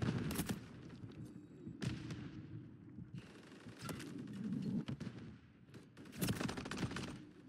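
Video game gunfire crackling in repeated bursts, sharp rapid shots spaced across the span with quieter gaps between, moderately faint and heard without speech.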